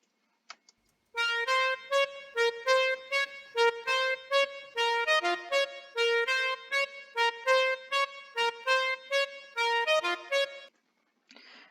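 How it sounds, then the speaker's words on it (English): A bright synth arpeggio melody layer built in FL Studio for a cinematic track plays alone, with short, evenly spaced plucked notes in a quick repeating pattern that stop abruptly near the end. "I also added another layer for the ARP melody"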